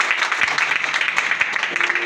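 A church congregation applauding during a worship service, with dense, steady clapping from many hands close by, and voices mixed in beneath it.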